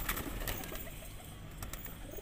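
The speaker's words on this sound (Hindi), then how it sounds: "ये गाइस देखिए अंदर बहुत से कबूतर है" Girebaaz and high-flyer pigeons in a coop give soft, low coos up close, with a faint flutter under a steady background hum.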